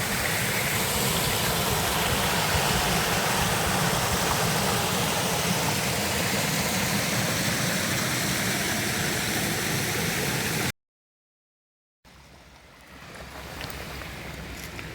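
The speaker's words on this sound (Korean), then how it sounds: "이거는 사계절 흐르는 물이네" Year-round mountain stream flowing, a dense, steady rush of water close by that cuts abruptly to silence, then returns faint and more distant.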